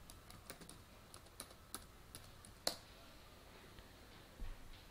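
Keys tapped on a laptop or computer keyboard while entering a new wifi password for a TP-Link router, a quiet sparse run of separate clicks with one sharper keystroke near the middle, close and alone.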